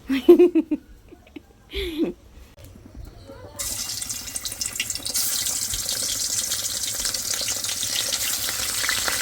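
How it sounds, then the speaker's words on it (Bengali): Fish frying in a wok, a steady hissing sizzle that starts partway through and continues to the end, preceded by brief voices and clatter. "আর এই মাছগুলো ভাজা নেব কড়াইতে"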